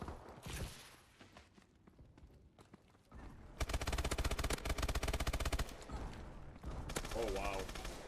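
Rapid Gatling gun fire in Call of Duty: Advanced Warfare, a dense continuous mechanical roar from a pair of Gatling guns, loud and sustained for a few seconds among other gunfire, with bursts of shooting before and after.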